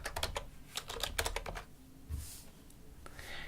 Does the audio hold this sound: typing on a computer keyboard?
yes